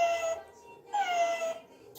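A toy plays a cat's meow: two separate, fairly quiet mewing calls, each drawn out and falling in pitch, with a short silence between them.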